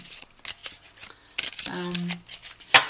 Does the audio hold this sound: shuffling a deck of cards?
yes